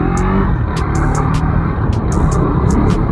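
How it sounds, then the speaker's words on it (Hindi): Street traffic heard from a motorcycle ride, a loud, steady wash of engine and road noise close by, with short sharp ticks scattered on top and no talk. "पर है भाई ट्रैफिक है"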